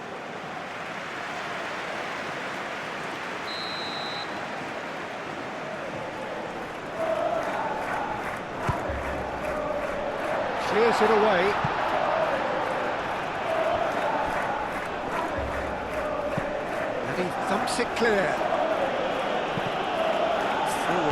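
A stadium crowd murmurs and swells in the eFootball PES 2021 match between Paraguay and Australia, a broad steady roar that rises halfway through, under a commentator's running talk.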